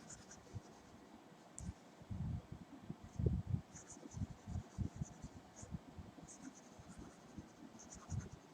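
Chalk taps and scratches on a board during a maths lecture on the beta function, in an irregular run of quiet strokes with a faint background hiss and no talk.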